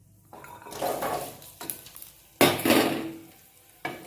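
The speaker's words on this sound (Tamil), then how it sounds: "இப்போ நம்ம இதில் பூண்டு ஆட் பண்ணுறோம்" Garlic tipped into onions frying in a pan for a village-style mushroom masala, bursts of loud sizzling and stirring in two main surges with quieter gaps between.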